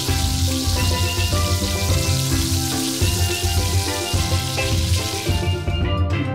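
Oil sizzles in a toy-kitchen pan as bananas and leaves are fried, a steady crackling hiss with a constant tonal hum behind it.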